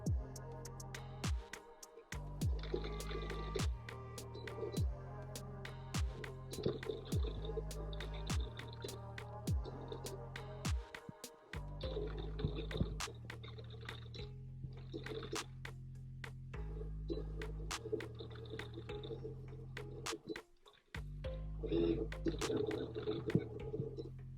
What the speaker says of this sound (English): And now we're ready to start cutting my vinyl out